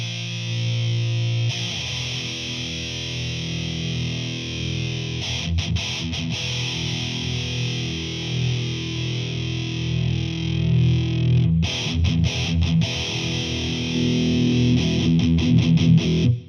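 A distorted electric guitar through an EQ pedal with the low mids cut chugs and strums steadily, sounding thin and scooped, with bursts of choppy muted strumming.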